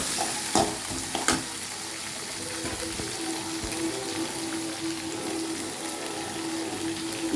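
Onions sauté in hot oil for an egg drop curry, a constant close sizzle with a couple of sharp utensil taps early on and no voices.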